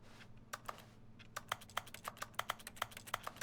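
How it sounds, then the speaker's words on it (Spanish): Computer keyboard clicking, with a quick run of crisp key taps that gets denser and steadier after a short pause, close and fairly quiet over a low background hum. "un ruido de teclado"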